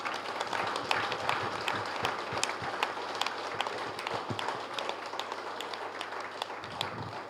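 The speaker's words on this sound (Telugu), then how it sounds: "ముందుగా బ్రహ్మర్షి పితామహ పత్రిజీ గారికి ఒక్కసారి గట్టిగా క్లాప్స్." Applause from an audience at a spiritual gathering in Eluru: a sustained patter of many hands clapping at middling distance, fairly even and continuous, with scattered sharper claps standing out and no clear talking.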